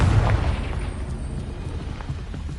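In the Hogwarts Legacy video game, a Confringo spell explodes in a deep rumbling boom that fades into a low, noisy decay.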